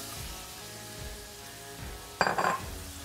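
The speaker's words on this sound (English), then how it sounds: "Butter, followed by some olive oil. Circle that around. And then in go our onions." Onions dropped into a pan of hot butter and olive oil set off a sudden loud sizzle near the end, after a quieter stretch of low pan hiss.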